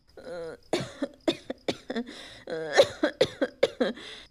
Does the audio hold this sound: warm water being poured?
no